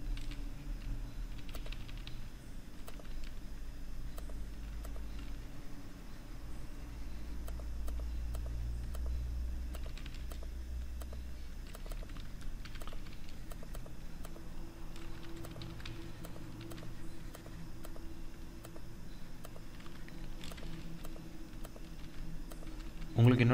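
Quiet computer keyboard keystrokes while editing in Photoshop, soft irregular clicks scattered through the clip beneath a low background hum and a speaking voice.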